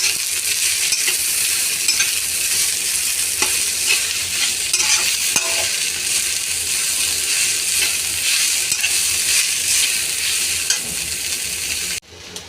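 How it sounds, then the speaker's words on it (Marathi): Radish leaves stirred into a vegetable dish frying in a pan, steady loud sizzling with spoon scrapes throughout, ending abruptly near the close. "आता आपण हा मुळ्याचा पाला टाकणार आहोत ह्यामध्ये. आणि छान असं मिक्स करून घेणार आहोत."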